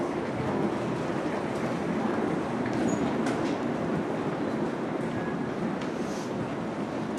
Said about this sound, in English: Comes the train.